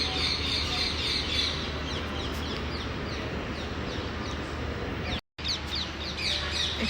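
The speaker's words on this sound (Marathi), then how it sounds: "हे बघा इथे पोपट बसलाय" A parrot perched near a balcony calls amid other chirping birds on a rainy day, with repeated bright calls over steady outdoor background noise and a brief dropout near the end.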